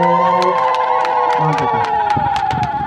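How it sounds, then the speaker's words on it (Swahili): At a Catholic parish outpost church celebration, a crowd claps and sends up high, sustained ululating cries. The sound is loud and close, with clapping running through the warbling voices. "Makofi na vigelegele kwa Mungu."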